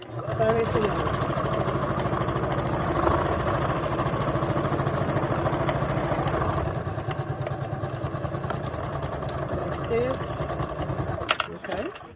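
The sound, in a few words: sewing machine stitching a 5/8 skirt seam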